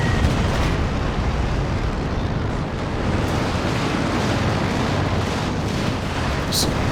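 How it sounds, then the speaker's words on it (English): Dense, continuous rumbling artillery barrage in Company of Heroes 2, a 4v4 match with off-map and on-map shelling, booming blasts piling into a loud, unbroken roar with a sharp crack near the end. "in comes all manner of off-map and on-map artillery"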